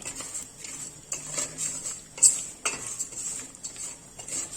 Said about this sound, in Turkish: Şehriyelimiz kızarana kadar şöyle karıştıralım.